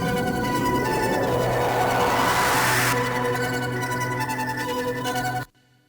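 Full music mix with a large hall reverb spread across every channel, a dense continuous wash of sound that ends abruptly, leaving a short reverberant tail.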